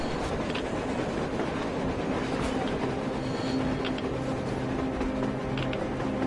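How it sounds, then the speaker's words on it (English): A train passing on the surface in the video game Metro Exodus, a steady rumbling clatter of wheels and carriages with a faint metallic squeal, continuous and fairly close. "A train! A damn train on the surface!"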